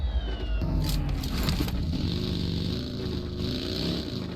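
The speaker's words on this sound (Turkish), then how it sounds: "Aşağıdaki buggy'yi alıp öyle gideceğim." A buggy driven in PUBG Mobile drones with a continuous, fairly loud engine note that rises and wavers as it speeds over terrain, steady throughout with no talk.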